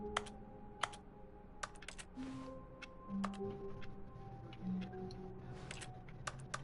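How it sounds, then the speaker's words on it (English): Keyboard typing in The Stanley Parable, sharp irregular clicks in quick bursts over quiet office ambience, with faint tonal game sounds between the keystrokes and no talk. "So when I press X, it sounds like a keyboard?"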